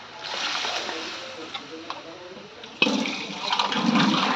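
Water pours steadily into a simmering curry of field bean seeds with a hissing splash, then surges louder halfway through as more is added, a close, continuous pouring sound.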